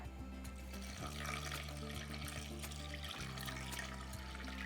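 Water poured into a pressure cooker vessel over chana dal, making a steady splashing, gurgling pour that runs for several seconds, close and fairly quiet, with a low constant hum underneath.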